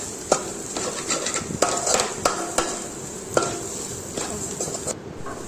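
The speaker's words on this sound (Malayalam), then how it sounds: "മുളക് പൊടി നന്നായിട്ട് മൂത്ത് വരുന്നവരെ നല്ല രീതിയിൽ ഇളക്കുക." Onions and chili powder stirred in a pan for a Kerala pearl spot fish dish, with a spoon scraping and clinking against the metal every second or so over a faint steady frying hiss, close by.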